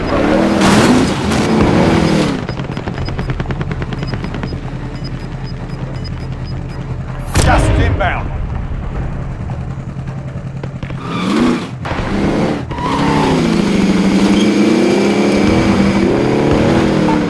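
A vehicle driven in Call of Duty: Warzone, its engine droning steadily and revving up across the stretch, with a short loud burst near the middle and a couple of brief breaks before the motor roars back on.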